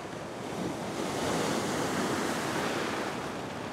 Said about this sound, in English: I'm just watching this wave come in now